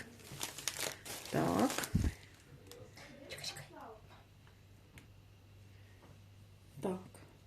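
Paper crinkles and rustles up close as wrapping is handled, with a soft voice speaking between bursts of crumpling.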